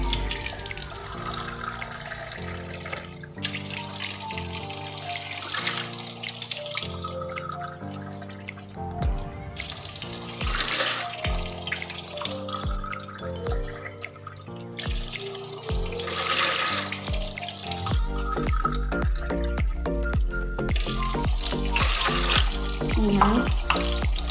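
Water pours into a cooking pot for turmeric ginger tea with a continuous splashing trickle that gradually fills the pot. Background music runs underneath.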